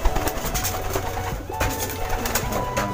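Homing pigeons coo steadily and close, soft repeated throaty calls overlapping in a loft, with a busy background and no talk.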